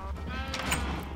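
A single short sheep bleat from a video game farm sounds fairly faint and alone, with no talking over it.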